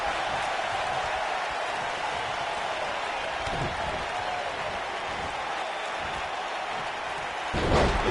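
A dense, steady roar of a cheering arena crowd from a PS4 wrestling video game fills the whole stretch without a break, loud and continuous, with a slight swell near the end.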